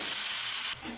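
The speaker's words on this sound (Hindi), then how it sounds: "इसमें जाएगा अब ऑयल। हमारा कीमा चला गया," Minced meat frying in oil in a pan gives a steady, close sizzling hiss through most of the moment, then it drops quieter toward the end, with no talking.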